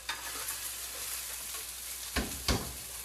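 Onions fry in a pan with a soft, steady sizzle close by, broken by a couple of sharp scraping clacks as they are stirred and turned.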